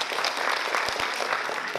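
An audience at a live stage performance claps in sustained, dense applause throughout, loud and close, with a couple of low thumps partway through.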